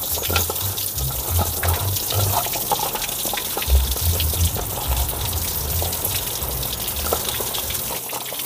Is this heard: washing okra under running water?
yes